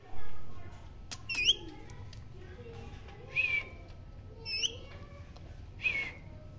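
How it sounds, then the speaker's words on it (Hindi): Pet parrot giving several short, bright, rising whistles, spaced a second or two apart over a quiet background, with some faint rustling. "ये देखिए हमारा मिट्टू है यहाँ पर"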